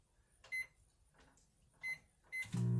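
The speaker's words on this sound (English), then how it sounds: "Because it's only a 700 watt microwave, so it's a smaller microwave." A small 700-watt microwave oven heating poached eggs in a Tupperware breakfast maker gives off a few short beeps and clicks over a low hum. A louder steady drone kicks in near the end.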